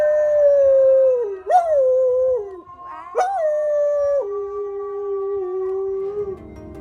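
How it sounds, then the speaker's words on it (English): A dog howls along to the Islamic call to prayer at a weekend bazaar near Bodrum on the Turkish coast: long, wavering, sung howls with two sharp upward swoops, loud and close, with no talking. "The prayers are going and this dog's singing along to them."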